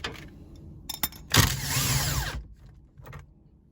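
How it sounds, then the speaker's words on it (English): An impact wrench with a 13/16 socket removes the steering wheel nut in a Mazdaspeed Protege, several short clicks leading into a loud rattling burst of about a second, then tapering off with small mechanical knocks. "We're using the impact because we're trying to keep the steering wheel as centered as possible when we're doing this installation."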